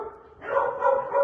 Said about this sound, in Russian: вот собачки.